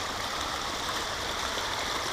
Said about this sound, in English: is just coming out of the ground right here.